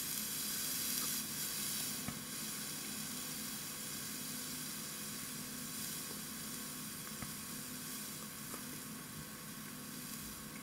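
A vape coil at 0.75 ohms fires on slightly dampened cotton, giving a steady, faint sizzling hiss with occasional small crackles throughout.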